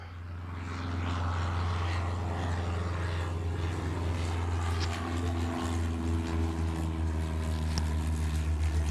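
Propeller airplanes from the 1925–1928 era roll for takeoff in the Airport Madness airport game: a steady, low droning engine hum that builds in the first second and holds loud and continuous, with no talk.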